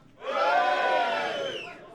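A live comedy crowd cheers and whoops when prompted, a dense burst of shouting that swells quickly, holds for over a second, then tapers off, heard close and loud without a single clear speaker.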